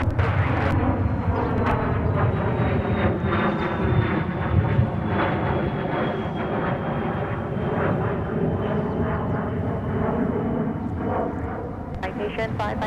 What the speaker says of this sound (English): A nice sporty departure from that Citation.